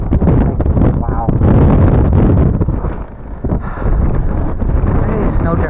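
Strong blizzard wind roars steadily into the microphone, driving snow during the 2022 Christmas blizzard, loud and buffeting throughout with brief lulls; a voice talks faintly in places under the gusts.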